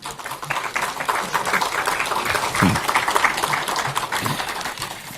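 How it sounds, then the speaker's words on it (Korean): Applause from an audience greeting a party leader at a Korean political gathering, a dense steady patter of clapping that holds for the whole stretch at moderate loudness, with voices faintly mixed in. "대표님 큰 박수 한번 보내드리죠"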